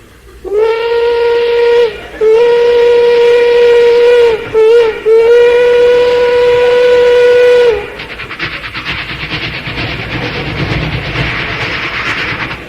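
A voice imitates a distant train whistle with long, steady wailing hoots and short breaks, followed by a rough, rumbling chug.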